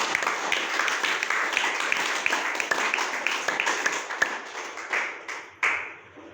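An audience claps together in a hall, a steady loud patter of many hands that thins toward the end into a few scattered, separate claps.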